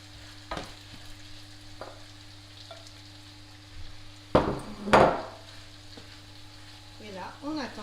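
Minced beef for beef lasagne goes into a pan, with a sudden loud sizzle burst after a quiet hum, a couple of sharp clatters, then a softer frying hiss and stirring scrapes nearby.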